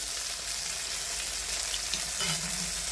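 Cluster beans (gavar) roast in a pan for a village-style gawar bhaji, giving a steady, loud, close sizzle with faint stirring scrapes near the end and no voices.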